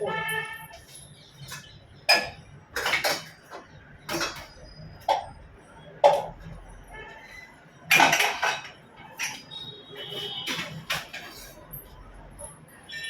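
Steel cooking pots and utensils clink and clatter in sharp, uneven knocks as soybean is added to a pressure cooker in a home kitchen, with quiet background noise between the strikes.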